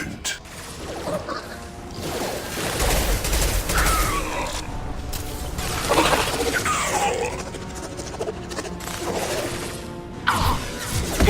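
Gunfire from a high-impact shot in the sci-fi shooter Mass Effect 2, with bursts and crashing impacts layered over a dense, continuous game soundscape of mechanical noise and music.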